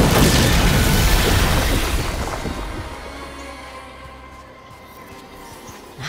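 Fire breath from a character in Dragon Age: The Veilguard sets banners alight, a loud roaring whoosh that slowly fades into a lower rumbling crackle before a small swell at the very end.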